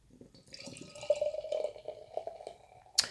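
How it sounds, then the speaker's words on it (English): Stillwater Tropic Smooth double IPA, brewed with pineapple, cacao and vanilla, poured into a glass, a steady close liquid stream with a rising fill tone over about three seconds, ending in a sharp clink. "Let's get a pour."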